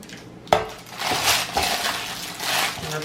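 Homemade no-yeast bread dough being moved into a baking pan: a sharp metallic clank, then dull scraping and handling noises.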